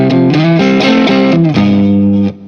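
A budget GLARRY Strat-style electric guitar rings out in a short run of sustained notes and chord changes, played loud and alone with a slightly driven, effected tone that fades at the end.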